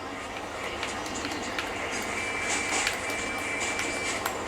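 Subway train in the video game GTA IV, a steady rolling rumble with scattered metallic clicks and a thin high whine, continuous and fairly close throughout, with no talking.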